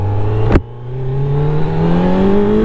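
A Kawasaki Z900 motorcycle accelerating hard in first gear, close and loud: after a brief sharp clack, the engine note climbs steadily in pitch as revs rise under a rush of wind.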